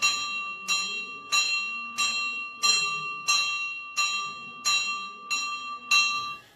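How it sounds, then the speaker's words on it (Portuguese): A bell struck by a traditional bell ringer in Ceará, Brazil, sounds in nine evenly spaced, ringing strikes with bright sustained overtones, each decaying before the next, close and loud with no talk. "Eu vou bater o sino através de música"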